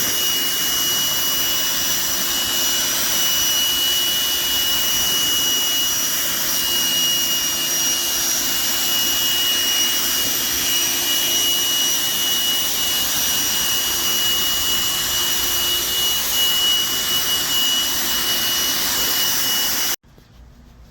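A power washer rinses deck stripper off a wooden deck, a loud constant roaring hiss with a steady engine drone that runs unbroken and cuts off abruptly near the end.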